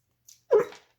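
A farm puppy gives a single short, soft yelp up close, preceded by a faint tiny squeak, in otherwise quiet surroundings.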